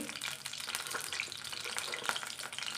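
Tempering sizzling in hot oil for a Marathi bottle gourd curry, a dense, crackling fry with scattered sharp pops and spits, steady and close throughout with no talk.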